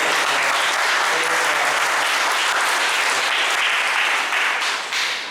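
A church congregation at a worship service in Vasai breaks into loud, sustained applause, dense clapping that fills the room and tapers slightly at the end.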